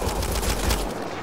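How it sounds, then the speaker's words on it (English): Rapid bursts of gunfire from Mass Effect: Andromeda crackle loudly and steadily for about a second, then cut off abruptly, leaving a quieter tail with no voices. "They shot him!"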